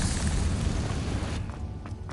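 A Confringo fire blast spell explodes in the video game Hogwarts Legacy, producing a loud, heavy boom with a rumbling low end that fades over about two seconds.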